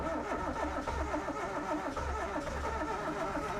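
A Pride car's engine, left sitting idle for three weeks, runs with a steady, close mechanical drone and a rough, pulsing rhythm throughout, with no voices over it.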